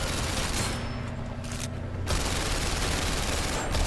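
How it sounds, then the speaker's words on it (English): Sustained rapid gunfire in the VR shooting game PSVR Worlds London Heist, a loud continuous burst of shots aimed at petrol tanks on motorbikes, dense and unbroken throughout. "Another one of the challenges is shooting the petrol tanks on the bikes,"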